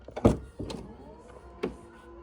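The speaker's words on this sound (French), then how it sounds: "Et l'haillon de coffre à ouverture électrique, ouverture à distance également." Powered tailgate of a Porsche Taycan Sport Turismo electric estate opening by motor, a few distinct mechanical clunks and whirring pulses close by, with no talk.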